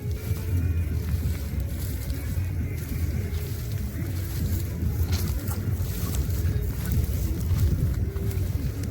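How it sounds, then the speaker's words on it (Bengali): A boat approaching over water on a river trip, a continuous low engine rumble with wind noise across the microphone, steady and fairly close throughout. "এই যে আমাদের নৌকা হাজির, আমরা এবার ফিরবো।"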